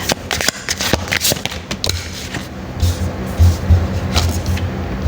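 Tarot cards are shuffled close by in a quiet room, giving a steady run of soft riffling and slapping bursts with no talking.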